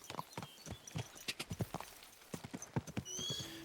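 Horse hooves clip-clop in an uneven trot while riding in Kingdom Come Deliverance 2, followed by a neigh near the end, fairly quiet and close.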